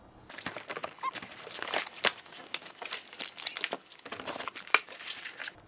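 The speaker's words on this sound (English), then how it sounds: "And open up that box." Cardboard bicycle box being opened by hand, with a busy run of crinkling, tearing and rustling of cardboard and packing material, close and fairly quiet, continuing without pause.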